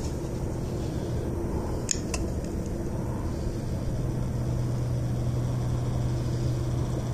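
A small electric trolling motor on a boat runs forward under a PWM digital speed controller, giving a steady, close mechanical whir and hum that holds for several seconds, with a couple of brief clicks and no talk.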